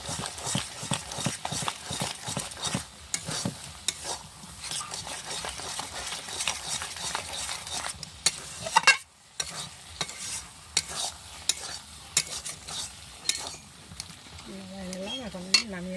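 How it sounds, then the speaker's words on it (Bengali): Leafy greens (mixed shak) stir and fry in a pan, with continuous sizzling under repeated scraping, clattering spatula strokes in an irregular rhythm, a brief pause midway, and a voice briefly heard near the end. "এখন একটু নাড়াচাড়া করে নেব,"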